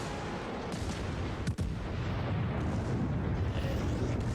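Torpedoes strike ships in a World of Warships naval battle, heard as a continuous rumbling roar of distant explosions and gunfire with one sharp burst near the middle, and no speech.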